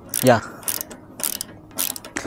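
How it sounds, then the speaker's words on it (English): A wrench loosens a nut off a bolt on a Royal Enfield Hunter 350 motorcycle during fog light fitting, giving several short metallic ratcheting clicks in separate bursts, close and fairly loud, with brief pauses between. "hold the bolt from this side and open the nut from this side"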